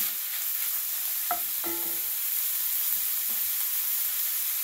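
Korean sloppy joe meat sizzles quietly in a pan while a utensil gives a few brief stirring scrapes and taps, fairly faint and close.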